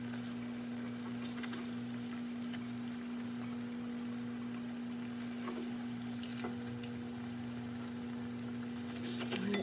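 Eggs cook in a pan, a soft continuous sizzle with occasional light scrapes over a steady background hum, fairly quiet and without talk.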